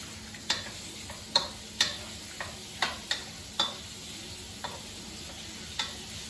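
Food frying in a hot wok while surf and turf is cooked, a low steady sizzle broken by scattered sharp ticks and clinks of stirring, fairly faint and with no talking.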